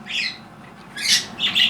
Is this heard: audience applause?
no